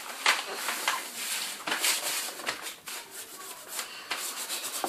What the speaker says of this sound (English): And kind of just like rub whenever you see the bumps.